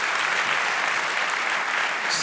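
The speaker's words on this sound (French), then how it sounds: "Est-ce qu'on peut les applaudir, s'il vous plaît?" A church congregation applauds its prayer team, a dense, even wash of clapping that stays steady and fairly loud for the whole short stretch.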